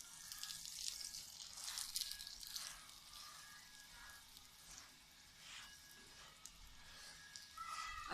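Aloo paratha frying on a griddle in ghee or oil, a steady close sizzle and crackle with bursts of spattering that swell and ease over several seconds.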